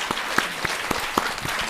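An audience applauds in a short, dense burst of clapping during a Buddhist monk's televised talk, many hands overlapping into a steady rattle with a few sharper claps near and loud.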